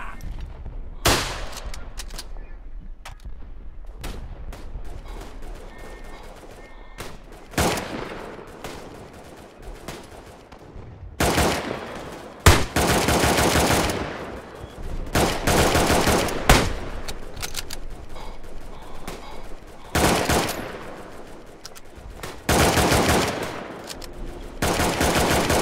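Machine gun and rifle fire in the WWI shooter Tannenberg, with loud bursts of automatic fire and rifle shots in repeated volleys separated by quieter gaps, some shots close and others more distant.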